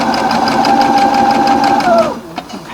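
A sewing machine runs steadily at speed while stitching a quilt seam, giving a loud, even mechanical whir for about two seconds. It then winds down and stops, followed by a faint click.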